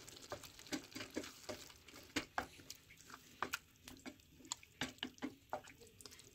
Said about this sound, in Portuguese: Agora a gente vai misturar tudo.